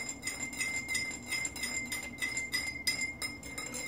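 A utensil stirs a mixture inside a glass container, making repeated rhythmic clinks and scraping taps against the glass, close and fairly quiet with no talking.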